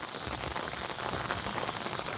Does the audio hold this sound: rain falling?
yes